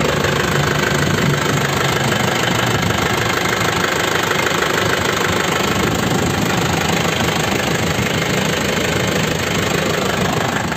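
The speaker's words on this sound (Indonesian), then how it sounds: "Mesinnya istimewa lur, tahun 2005. Suaranya masih kempel." A 2005 Grand Touring car engine idles steadily and close by, a dense, even mechanical hum with a light rhythmic knock running unbroken for about eleven seconds with no talking.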